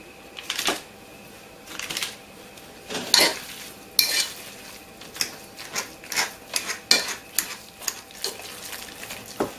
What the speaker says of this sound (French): je vais écraser à la fourchette